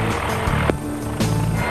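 Helicopter in flight over a drainage, with a steady, loud, close rotor and engine drone filling the cabin and a couple of faint thumps.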